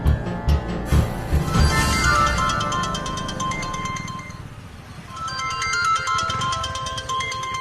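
A phone ringtone plays in a Tamil TV serial scene, a loud repeating electronic melody that fills the scene and keeps ringing without any voices.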